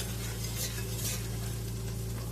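Tablespoon of real butter sizzling in a hot soup pot, a steady close hiss with faint stirring scrapes running throughout, no voices.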